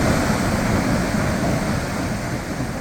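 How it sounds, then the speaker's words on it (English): Continuous roaring rush of a waterfall in the Columbia River Gorge, dense and steady throughout, close and powerful with no voices. "You can just hear the power of the waterfall."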